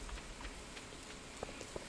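Soft, steady rainfall patters throughout on a rainy day in a fishing video game, with a few faint drip ticks standing out near the end.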